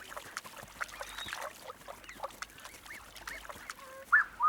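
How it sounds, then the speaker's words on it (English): Blue-winged geese call from open swampland, a few faint honks scattered over a quiet outdoor background, with a louder, closer call near the end. "These blue-winged geese have young goslings, which are worth a hunting attempt."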